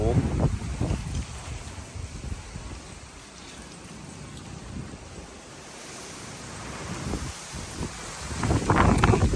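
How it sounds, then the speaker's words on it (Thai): Strong storm wind buffets the microphone outdoors in loud rumbling gusts that swell at the start and end and ease off in the middle, with a voice heard under the roar. "โอ้ลมมันแรงมากๆนะ"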